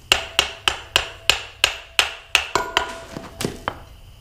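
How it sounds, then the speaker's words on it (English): A small hammer strikes the bearing shaft of a Rayco 85 stump grinder, about a dozen sharp metallic taps. They come in an even rhythm at first, then grow irregular, each ringing briefly. "Get my little hammer."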